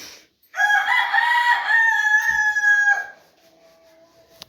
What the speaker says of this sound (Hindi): मुर्गा भी बांगे दे रहा है